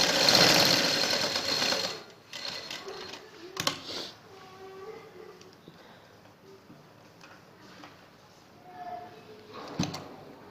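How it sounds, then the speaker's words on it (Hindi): A sewing machine stitches a kurti neckline, starting with a loud close whir of running stitches that stops after about two seconds, followed by quiet handling clicks and a second short burst near the end. "अब इसके ऊपर हम सिलाई लगाएंगे"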